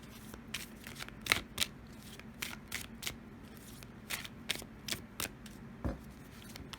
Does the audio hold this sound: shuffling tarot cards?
yes